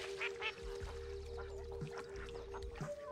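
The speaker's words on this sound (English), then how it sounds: "Him with those ducks." Ducks quacking in a scene from a TV drama, several short calls scattered over a steady low hum, moderately close with no talk.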